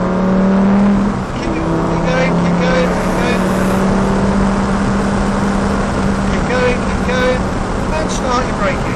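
A Lamborghini Gallardo engine pulls hard at full power, a loud sustained roar rising in pitch through the gears, close up with a coaching voice talking over it.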